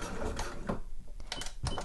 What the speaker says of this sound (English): Just did a couple of stitches forward and a couple back